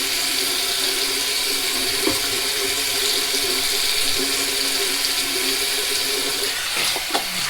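Tap water runs steadily into a sink, a continuous close hiss and splash that ends with a few brief clunks as the flow is handled near the end.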